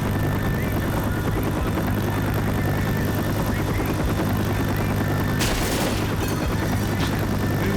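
A helicopter in the Left 4 Dead zombie shooter video game gives a loud, continuous rotor thrum and engine roar. A sharp burst of gunfire-like bangs cuts through near the end, and no one talks.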